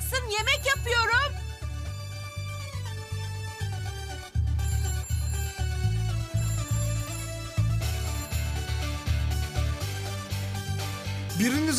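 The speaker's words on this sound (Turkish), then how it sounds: "Biriniz açın şu telefonu" A telephone's ringtone plays in a home over a steady rhythmic backing, a melodic repeating pattern running throughout, with a voice briefly at the edges.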